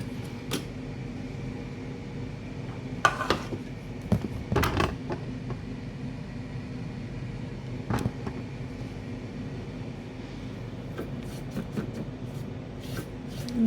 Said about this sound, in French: ديجا طحنا السكر، دابا غنطحنوا les spéculoos.